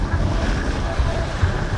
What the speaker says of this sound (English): the engine's doing things. All right, it's keeping us in line, and you can hear it working.